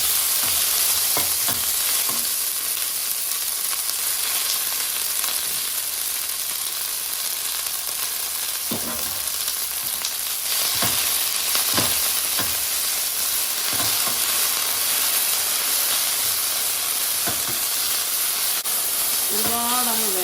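Two cups of moringa leaves sauté in a hot pan for a coconut pulissery, giving a loud, steady frying sizzle and hiss with occasional stirring scrapes and clinks throughout, close and continuous.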